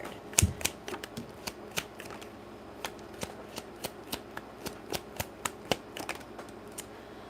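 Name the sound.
tarot cards being shuffled and handled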